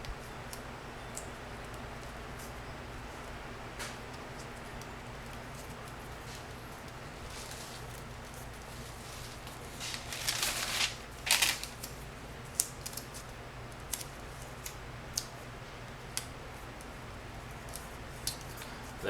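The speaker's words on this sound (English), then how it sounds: "I basically just tape this on with some duct tape" Duct tape being pulled and wrapped around a PVC pipe handle for a foam axe: a steady hiss punctuated by a burst of loud tearing and ripping midway, then scattered sharp clicks and crackles, close and without talk.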